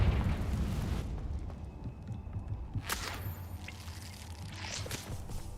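A fiery spell blast from a Harry Potter video game, the Confringo curse, bursting with a loud whooshing explosion and crackling debris that fades into lingering rumble over steady game ambience.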